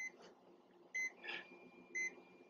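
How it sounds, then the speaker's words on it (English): A Kill A Watt power meter overloaded by a fryer on a Bluetti AC500 power station gives three short electronic beeps about a second apart, moderately loud over a low background hum. "Kilowatt's beeping overload at me."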